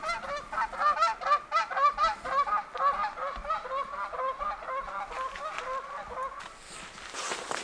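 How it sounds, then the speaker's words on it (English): A flock of geese landing on water near the speaker in central Idaho honk repeatedly in a dense, overlapping chorus, loud and close, with no talking. "I got a bunch of geese that have been coming in the land on the water"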